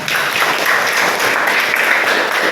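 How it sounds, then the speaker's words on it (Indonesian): Loud, steady applause from a classroom group, a dense wash of clapping hands that continues throughout without pause. "Boleh tepuk tangan buat kelompok 2."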